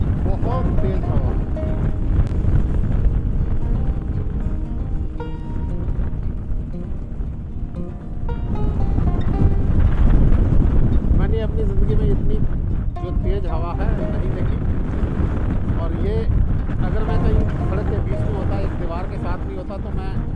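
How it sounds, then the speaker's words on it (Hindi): Strong wind gusts roar and buffet the microphone during a snowstorm in New York, loud and continuous with surging swells, while someone talks over the blustering noise. "ये देखिए कितनी तेज़ हवा है"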